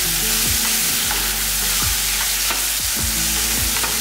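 Tomatoes and onions sauté in a hot pan, sizzling loudly and constantly while a spatula scrapes and knocks against the metal every second or so, with no voices.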